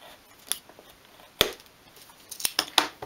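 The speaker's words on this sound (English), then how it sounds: "snip the end, the pointed end off of the cocktail stick" A small pair of scissors snips the pointed tip off a wooden cocktail stick during model boat making: a few sharp, separate clicks that are close and quiet, with soft handling noise between them.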